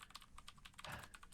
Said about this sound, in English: Aggressively typing that keyboard